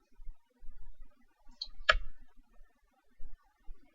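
A single quiet computer mouse click stands out against near silence, with faint low rumbles around it.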